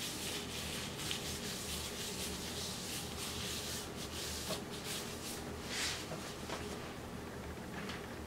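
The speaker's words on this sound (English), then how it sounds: "Now I'm gonna go ahead and put on the pre-oil. Ah! And just rub that in." Pre-wax oil rubbed by hand onto armpit skin at home: a soft, steady rubbing and swishing texture, close and continuous with no clear breaks.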